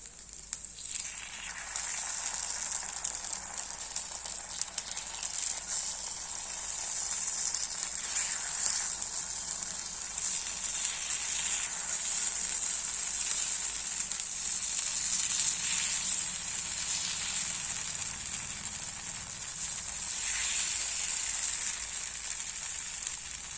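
Paniyaram made from idli batter sizzle and fry steadily in a pan, a constant bright hiss with small crackling swells, close and unbroken, with no talk.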